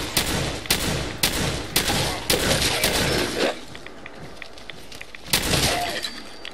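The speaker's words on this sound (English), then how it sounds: "Lucky laser fire." Laser gunfire in the video game Fallout 4: a series of sharp, evenly spaced loud shots at first, then quieter scattered effects, and one more blast near the end.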